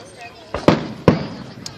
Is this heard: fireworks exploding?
yes